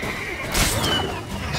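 Horse whinny in The Witcher 3 video game, a single high neigh rising over steady game ambience with faint clip-clop.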